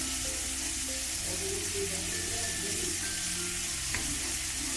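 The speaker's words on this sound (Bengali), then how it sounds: "এবার এটা দেবো অল্প করে পেঁয়াজ কুচি আর কিছু পরিমাণ লঙ্কা কুচি" Chopped onion and green chili sizzling in a pan with lightly fried prawns, stirred steadily, a continuous close frying hiss with faint scraping and no voices.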